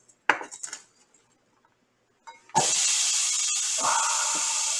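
Chopped onions dropped into about a teaspoon of hot oil in a frying pan burst into a loud, steady sizzle after a few light clinks and taps, the hiss continuing close and constant without talk.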